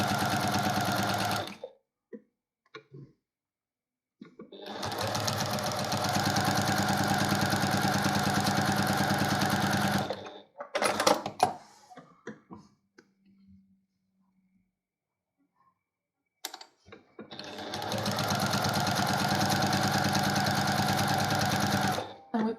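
A sewing machine quilts a small cross-hatch block in three loud, steady stitching runs, separated by quiet pauses filled with light handling noises.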